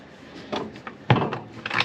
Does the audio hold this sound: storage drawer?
yes